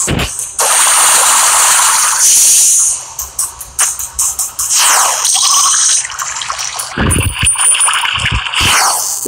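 Water poured from a tap or container into a small trophy, with splashing, trickling and dripping that runs in bursts and pauses over about nine seconds, fairly close and loud, alone without talk.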